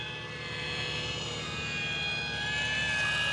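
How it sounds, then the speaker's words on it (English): A distant manned aircraft drones overhead in a steady, continuous engine hum over an outdoor field, faint and far off, with no talking. "I hear manned aircraft."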